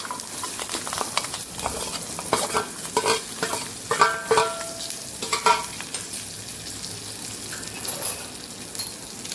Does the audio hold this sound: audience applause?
no